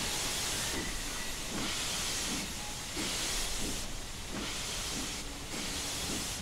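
In the Train Simulator 2016 game, a GWR Star Class steam locomotive gives off a steady, loud hiss of steam, broken by a regular rhythm of softer chuffs that come and go about every second.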